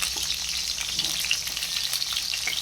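Cut potatoes frying in a pan for a mutton curry, a steady crackling sizzle with scattered pops and light stirring, close and continuous without speech.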